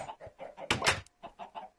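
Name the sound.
chickens clucking on a farm in a video game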